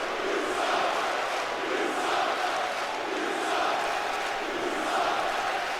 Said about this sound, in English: The whole city of Tampa Bay is going crazy with the "You Suck" chants.